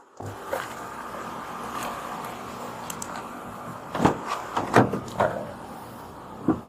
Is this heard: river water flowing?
no